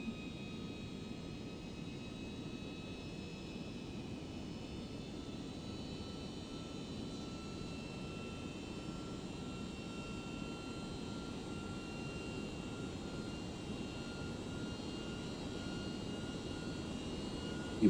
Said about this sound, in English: rewind it a little bit so we can hear the engines